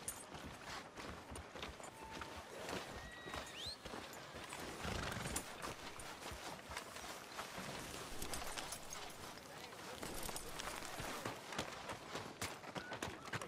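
Horse hooves clip-clop in a steady, brisk rhythm on a street in the Red Dead Redemption 2 video game, continuous and close, with faint harness jingles and an occasional voice.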